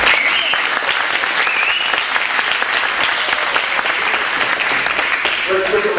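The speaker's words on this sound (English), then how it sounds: "Let's give them all another big round of applause for their hard" An audience claps for band performers at a 1993 band performance event, a loud, close, continuous round of applause with a few faint whistles or voices mixed in.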